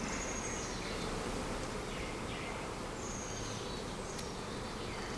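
Honeybees buzz in a dense, continuous drone around an open hive during spring work, close and steady, with faint birdsong in the background.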